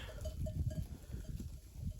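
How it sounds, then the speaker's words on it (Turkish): A flock of sheep grazes on a mountaintop in the Nurhak mountains, heard faintly and far off as soft bleats and clattering bells under low outdoor rumble. "önündeki dağın tepesinde Sadık abinin koyunları var"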